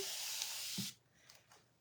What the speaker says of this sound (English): I'm going to flip it over again, spray one more time,